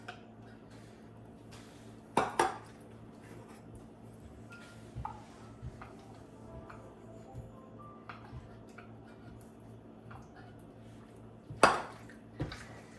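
A spoon clanks twice against a pot while homemade hamburger helper with added soup is mixed; otherwise only a quiet low kitchen hum fills the long stretch between the two bright strikes.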